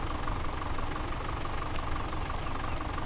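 Massey Ferguson tractor engine idling in Farming Simulator 2017, a steady, dense low rumble that holds evenly and alone throughout.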